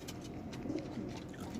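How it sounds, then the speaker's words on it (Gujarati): Pigeons around a rooftop loft, some flying overhead, give soft, faint cooing over a steady low background hum, with no wing flaps standing out. "બાકીના કબૂતર બધા ઉપર ઉડે જોઈ લ્યો."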